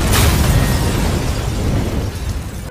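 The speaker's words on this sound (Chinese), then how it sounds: "是老爹的口香糖炸弹。" A chewing gum bomb blowing up in a comedy film, a loud close blast that roars for a moment and then settles into a rumbling, fading tail.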